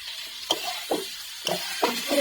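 Raw onion dropped into a spiced Bengali egg and cauliflower curry frying in a pan, giving a steady sizzle with four distinct stirring scrapes spaced about half a second apart, close and fairly loud.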